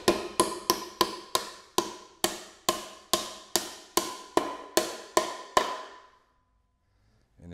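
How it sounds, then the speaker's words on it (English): Hammer blows drive a nail into a wooden nautical piling post, about fourteen sharp, evenly spaced strikes with a metallic ring, close and loud, then silence. "So we're going to drive a nail into that right there."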